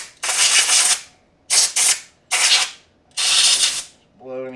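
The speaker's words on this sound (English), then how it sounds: "Last thing I'm going to do is take our air compressor here" Compressed air blasting through a Smith & Wesson M&P 22 Magnum pistol during cleaning: four loud hissing bursts, each under a second or so, with short gaps between them, followed by a brief tonal squeak at the end.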